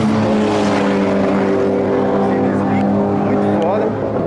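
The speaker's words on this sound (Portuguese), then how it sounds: "É um Etios turbo, velho." A turbocharged Toyota Etios race car holds a steady, droning engine tone at a track day, loud and close. Talking carries on over the engine.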